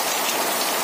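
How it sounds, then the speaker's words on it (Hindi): Heavy rain pours down in the Mandar area, a dense, loud, continuous hiss of drops striking surfaces with no pauses. "अभी 8 बजे के आसपास 8:05 पर बारिश तेज हो गई है"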